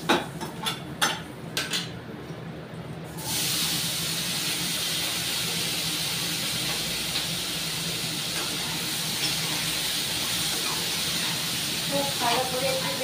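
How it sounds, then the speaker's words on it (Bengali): Potato and eggplant frying in hot oil with panch phoron, a steady broad sizzle that swells in after a few seconds of clattering and then holds loud and continuous, with faint talk underneath. "দিয়ে আলু বেগুনটাকে খুব ভালো করে ভেজে নেব"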